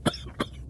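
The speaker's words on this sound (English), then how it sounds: "you really should have someone look at that cough" A commander coughs twice, two short, close rasping bursts about a third of a second apart, with quiet in between.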